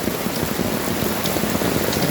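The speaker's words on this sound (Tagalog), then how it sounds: "sana tumila na yung ulan" Heavy rain pounding steadily on a surface, a dense continuous patter with no break.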